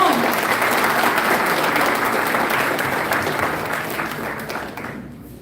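A big audience claps to welcome a keynote speaker at DevFest 2022, a Google developer groups conference; the full, sustained applause holds strong, then thins and fades toward the end.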